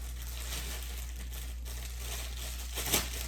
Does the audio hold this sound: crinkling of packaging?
yes